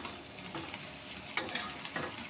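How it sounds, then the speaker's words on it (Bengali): Sliced onions and bitter gourd fry in a pan with a quiet, steady sizzle, broken by a couple of scraping stirs. "আমি এখন সুন্দর করে ভেজে নেব"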